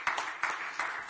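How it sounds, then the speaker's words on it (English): Scattered hand claps from a conference audience, a brief patter of applause with several distinct clap bursts, fairly close. "Mr. Bediako, let's give a little round of applause, people."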